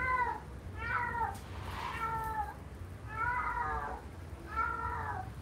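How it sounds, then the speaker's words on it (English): A cat meows nearby in a hungry tone, four drawn-out harmonic calls spaced about a second apart, fairly loud and close against a low steady background hum, with no talking over it. "Okay, there's a cat somewhere around"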